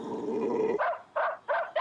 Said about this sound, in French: le beau toutou